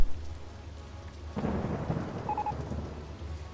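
Rain and thunder sound in the RollerCoaster Tycoon video game: a quiet patter until a sudden thunder rumble breaks in, followed by steady, dense rainfall.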